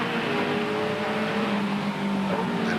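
A 1987 British Touring Car Championship racer at Oulton Park accelerates hard out of the hairpin, its engine a loud, continuous rising drone with steady harmonic pitch, heard alone without talk.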